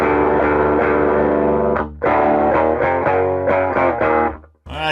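Heavily distorted electric guitar through a tube amp with overdrive pedal plays a run of sustained chords and notes, loud and up front, with a brief cut near the middle and at the end.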